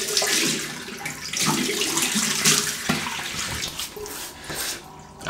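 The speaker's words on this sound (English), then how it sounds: "let's wet the face." Tap water runs steadily at close range, splashing as hands wet the face before a shave with an AC-style razor, a continuous hiss that rises and falls with the splashes.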